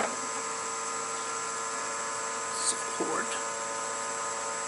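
A lathe runs with a steady mechanical whine and hum, holding an even tone throughout, while a person speaks briefly and a couple of light tool clicks sound near the middle.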